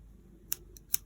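Two crisp snips of scissors cutting through a woven-in crochet yarn end on a strawberry phone bag, quiet and close with a short gap between them.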